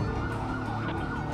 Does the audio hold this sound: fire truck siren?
yes